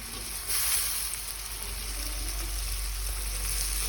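Chopped tomatoes frying in a pan for toor dal, a steady close hiss and sizzle with a brief louder burst near the start, continuous and without talk.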